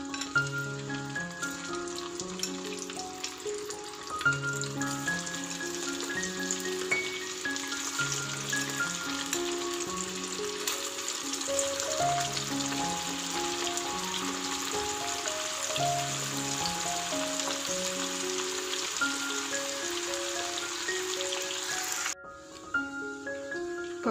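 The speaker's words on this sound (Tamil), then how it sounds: "இந்த சிக்கனை ஃப்ரை பண்ணி எடுத்துடலாம்" Marinated chicken fries in oil for chicken fried rice, a steady hissing sizzle running beneath prominent melodic background music.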